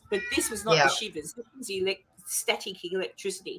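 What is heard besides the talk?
pet cat meowing, whinging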